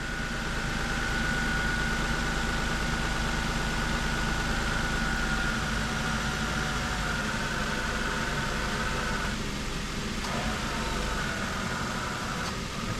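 A car engine idles steadily up close while the A/C compressor cycles during a refrigerant recharge, a constant droning hum with a tonal whine that drops away briefly near the end.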